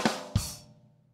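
Rimshot effect triggered from a Rode NT-USB Mini sound pad: two sharp drum hits in quick succession, the second ringing out and fading over a short decay, alone and up close.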